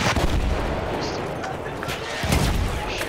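Mortar and artillery fire in an online shooter game, heavy booming blasts rolling continuously with bursts of gunfire near the start and again toward the end, with a voice in the background.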